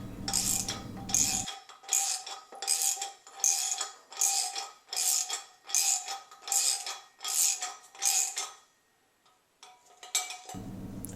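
Rhythmic ratcheting clicks from a pair of ratchets working a dimpling tool on a stainless steel homebrew kettle, about ten short bursts in a steady back-and-forth pattern, close and fairly loud, with low rumble before and after.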